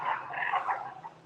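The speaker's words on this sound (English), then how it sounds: "territorial dogs." Territorial dogs bark and yelp a few times in quick succession, fairly faint and at some distance, near temples on a morning walk.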